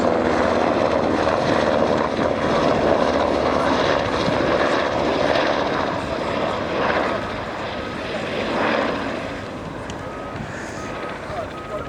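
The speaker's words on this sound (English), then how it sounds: "This is the tactical transport helicopter, the TTH." A Finnish NH90 tactical transport helicopter in flight at RIAT 2013, giving a steady loud rotor and turbine roar with a broad rumble that swells and eases slightly, while a voice talks over it.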